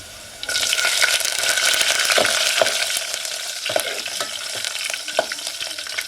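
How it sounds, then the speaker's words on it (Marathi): Curry leaves hitting hot oil in a home kitchen in the Konkan, giving a steady loud sizzle and crackle with a few sharp stirring clacks along the way, no voices. "तेल मस्त तापलंय. कढीपत्ता घालते."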